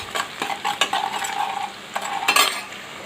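Onions frying in a pan until reddish for a chikkudukaya (broad bean) curry, with soft sizzling under repeated scraping and stirring clinks of a spoon against the pan, close and moderately loud.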